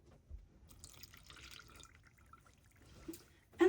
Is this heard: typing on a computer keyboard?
no